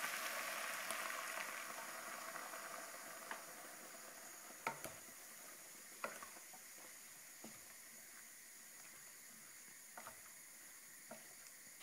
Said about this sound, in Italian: Adesso facciamo sfumare con il vino bianco